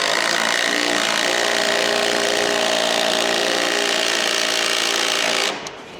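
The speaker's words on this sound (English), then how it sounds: "let's see how this impact wrench goes" An impact wrench runs loud and continuous for about five seconds with a dense, buzzing rattle, driving into a dusty hole during house framing, then cuts off abruptly near the end.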